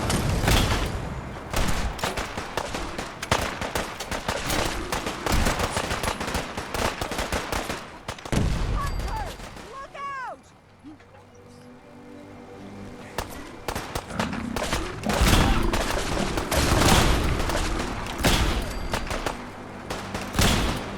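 Dense rapid gunfire fills a Fallout 4 battle, with many overlapping shots and bursts close and loud, a brief lull with a whooshing sweep in the middle, then the volley resumes at full intensity.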